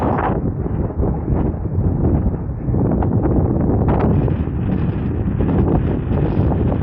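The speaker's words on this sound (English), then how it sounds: "It's very windy, which means it feels cold, really cold." Strong wind at a mountain peak in the Schwärzenkamm area near Obergurgl, Austria, buffets the microphone in a constant, loud low roar with gusting rumble, no voices.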